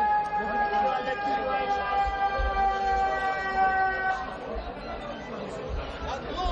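A steady ambulance siren tone after an explosion on Kazancı Yokuşu, held under a crowd of people talking and general street noise.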